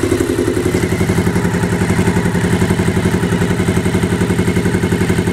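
A Honda VF400F V4 motorcycle exhaust idles loud and close with a fast, even, throbbing pulse and mechanical clatter.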